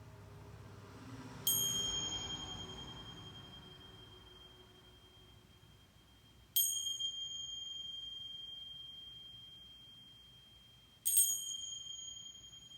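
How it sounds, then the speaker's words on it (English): A clear, bright bell rings three times at even intervals, each chime lingering and fading into near silence before the next. "When you hear 3 bells, you can open your eyes"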